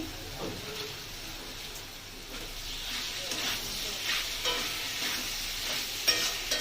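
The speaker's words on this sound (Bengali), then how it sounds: "দিয়ে এবার এটাকে ভালো করে কষাতে হবে। দিয়ে দেবো সামান্য চিনি" Sliced ridge gourd sautéing in a hot pan with a little sugar for a Bengali jhinge dish, giving a steady close sizzle with occasional scraping stir strokes throughout.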